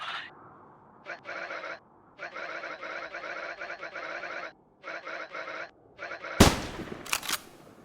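A sharp, loud gunshot cracks out in a video game after several stretches of voices, followed by a second, shorter burst of noise.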